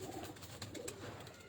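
A pigeon of pure old Sialkoti bloodline coos softly and steadily in low, murmuring pulses, close by and alone, with no voices.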